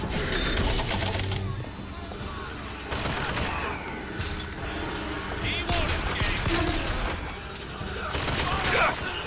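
In BioShock Infinite, a possessed turret lets off dense rapid bursts of machine-gun fire amid chaotic combat clatter and game effects, with a voice talking over the shooting throughout.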